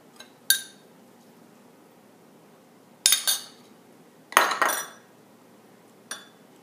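A vegan kale salad with tomatoes, hemp seeds and oil is stirred in a bowl, giving a few sharp, close clinks and scrapes of utensils in separate bursts against a quiet background.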